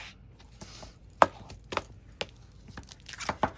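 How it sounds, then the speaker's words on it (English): Paper being pressed and rubbed over chipboard for a handmade album, a string of sharp, separate scraping and tapping strokes with quiet gaps between them, close and fairly crisp. "I'm going to bring the paper over the chipboard and burnish that"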